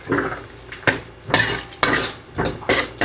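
Utensil stirring oyster sauce into tomatoes in a pan, heard as repeated loud scraping and clattering strokes against the metal, about six in three seconds, with a faint sizzle underneath.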